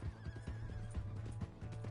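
A horse in the video game Red Dead Redemption 2 whinnies loudly with hoof clip-clops beneath, a short close burst with no speech.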